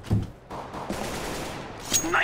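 Rapid gunfire in a CS:GO deathmatch, a burst of shots crackling close and loud amid game noise, with a brief higher ricochet-like tone near the end.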